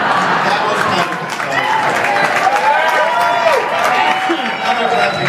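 A crowd at a live Walking Dead event in Cleveland applauds in a dense, sustained wash of clapping, with cheering voices and talk mixed in throughout.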